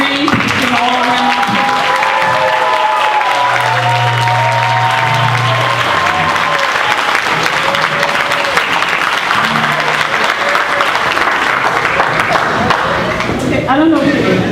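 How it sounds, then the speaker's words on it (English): A senior center audience at a men's empowerment program event applauds honorees with dense, sustained clapping while a voice and background music carry on underneath, rising in a burst near the end. "I'd like to give you a round of applause for all our honorees and all around."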